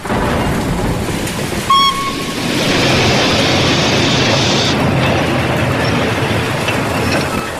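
A train pulls into a station at night in pouring rain, a steady loud rushing wash with mechanical clanks and a brief ringing tone early on; no voices.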